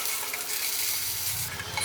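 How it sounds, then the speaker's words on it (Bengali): Potatoes stirred and fried in hot oil in a kadai for a Bengali fish-and-cauliflower dish give a steady, close, continuous sizzle with soft stirring movement throughout. "এবার আলুগুলোকে উল্টে পাল্টে বেশ কিছুক্ষণ নাড়াচাড়া করব যতক্ষণ না আলুগুলোর গায়ে সুন্দর একটা সোনালি রং ধরছে"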